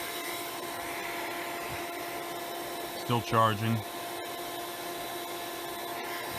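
A vacuum cleaner hums as a steady, tonal drone throughout, with a brief spoken remark rising over it near the middle.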